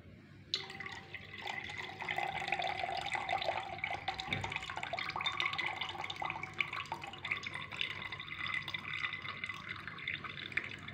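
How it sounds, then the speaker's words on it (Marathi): Flattened rice (poha) rinsed in water by hand, a steady wet swishing and trickling with small drips, continuous and close, no voices. "पोहे स्वच्छ धुवून घ्यायचे आहेत"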